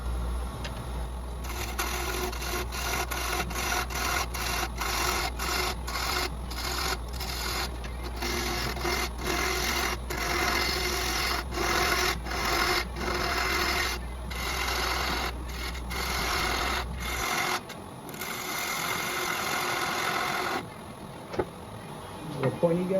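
A half-inch bowl gouge peels wood off the bottom of a turned box spinning on a lathe. It makes a steady, close rasping cut with a fast rhythmic chatter that stops shortly before the end.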